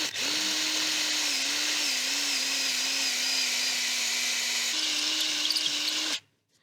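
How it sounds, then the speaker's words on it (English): A power drill bores into a clamped steel axe head with a steady, high whining grind that holds for about six seconds before cutting off abruptly. "now I'll begin to drill out the top of the axe"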